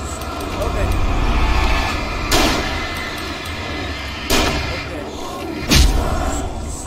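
A shotgun fires three heavy booming blasts in the Alan Wake game, spaced a couple of seconds apart over a rumbling backdrop, with a player talking around them.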